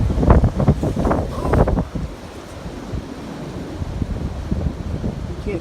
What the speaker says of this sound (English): here comes the wind again